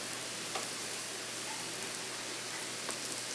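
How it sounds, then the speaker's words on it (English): Biscuits sizzle in a smoking hot cast iron pan just out of a 400-degree oven, a quiet, steady hiss like light rain with faint scattered pops, no voices. "So you see my pan is smoking hot. I'm going to go ahead and lay our biscuits down in the bottom of it."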